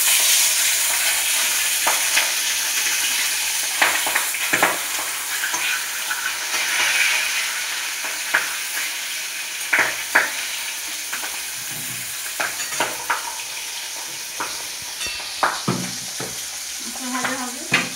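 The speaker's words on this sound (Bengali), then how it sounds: "মাছটা ভেজে নেবো।" Fish (katla) frying in hot oil in a pan, a steady close sizzle with occasional sharper crackles and stirring clatter throughout, no talk.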